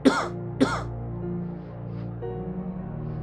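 Two sharp, close coughs come about half a second apart, followed by a steady low room hum, with no talking.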